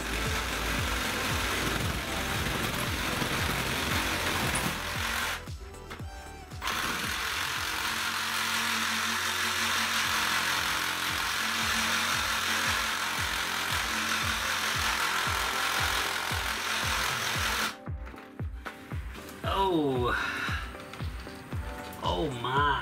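An electric saw runs long and loud, nearly continuously, while cutting pieces for gooseneck trailer kitchen cupboards, with a brief pause partway through and a drop in the noise near the end as a voice exclaims.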